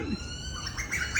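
Birds chirp and tweet in the open, several bright calls rising toward the end over a steady background hiss.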